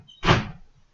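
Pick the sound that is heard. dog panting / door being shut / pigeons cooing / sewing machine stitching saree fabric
door being shut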